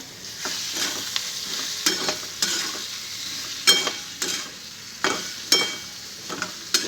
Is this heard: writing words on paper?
no